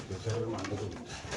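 Low, soft cooing from a white racer pigeon at a pigeon farm, heard under ongoing nearby talk and some background noise.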